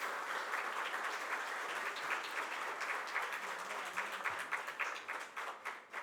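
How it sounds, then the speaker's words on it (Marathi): An audience applauds at the opening of a centenary concert event for Pandit Ram Marathe at Sahayog Mandir, Thane; the clapping is dense and sustained, then thins into scattered claps toward the end. "सगळ्यांचे रामभाऊ यांच्यासाठी एकदा जोरदार टाळ्या झाल्या पाहिजेत"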